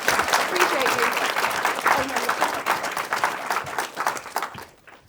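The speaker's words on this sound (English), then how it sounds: "one final round of applause for all our honorees and organisation" An audience at an awards ceremony applauds the honorees in a long, dense round of clapping that fades out toward the end, with a voice briefly heard over it.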